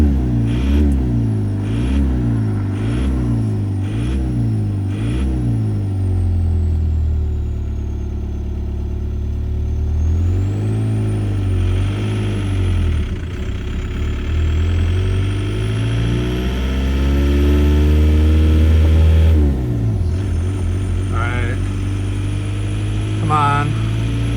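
A car swapped to a TDI diesel engine labours under full throttle, with repeated rhythmic revving surges early on, then long rising and falling engine sweeps, heard close from inside the cabin.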